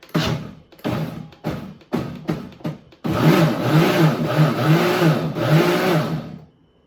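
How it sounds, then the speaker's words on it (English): A Ninja Foodi cold and hot blender pulses in several short whirring bursts, then runs one longer steady motor stretch before winding down, loud and close with no talk. "let's go ahead and pulse it so it kind of mixes together"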